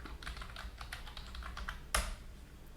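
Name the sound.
typing on a computer keyboard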